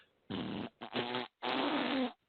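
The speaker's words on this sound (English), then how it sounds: "We got 3 Octave Fart." A fart sound effect called 3 Octave Fart plays in three loud, buzzy bursts separated by short gaps, with the last burst the longest, close and clear with nothing else behind it.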